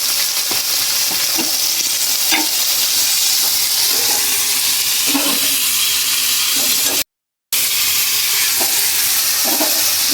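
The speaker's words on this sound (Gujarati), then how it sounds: "કારેલાનું શાક વઘારાઈ જશે" Bitter gourd curry sizzles loudly in a pan during tempering with turmeric and salt, a close, continuous hiss with occasional stirring scrapes and one brief cut to silence.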